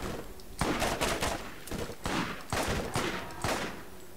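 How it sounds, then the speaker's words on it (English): Assault rifle fire in Borderlands, a series of short loud bursts repeating roughly every half second, close and crisp with no talk over it. "It's got this right nice rate of fire to shoot stuff."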